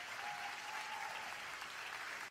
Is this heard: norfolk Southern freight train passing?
no